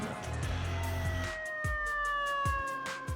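A New York City fire truck siren wails with a slowly falling pitch over rumbling traffic, interrupted by a few short, deep blasts.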